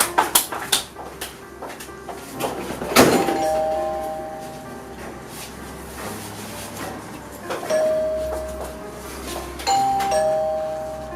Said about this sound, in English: Somto, Why are you pressing the house bell like that